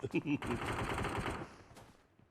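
Rapid automatic gunfire rattles out in a short burst in the PUBG Mobile video game, loud and close, trailing off into quieter shots, with a voice briefly heard at the start.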